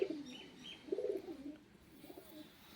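A male Giribaz pigeon with a ringed leg, one of a colour-matched pair, gives a few soft, low coos close by in a quiet space, with no talking.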